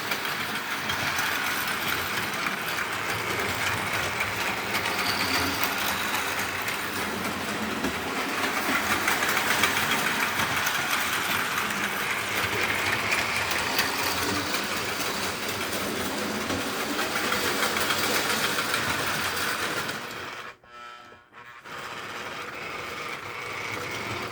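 A restored Marx toy model freight train clatters along its track with a continuous whirring rumble, broken by a brief drop near the end before the running resumes.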